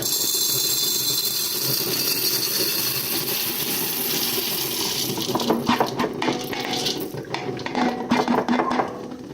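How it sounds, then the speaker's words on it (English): A rattling pour of coffee beans into a container, starting after a few seconds of steady background hum and growing into clustered clicks and patters. "We can go ahead and pour these beans in there."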